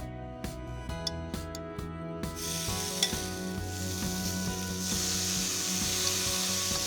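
Shrimp sizzle steadily in a pan after a few tosses in chili sauce, opening with some sharp scraping and stirring clicks and then settling into a continuous, close, crackling hiss with no voices.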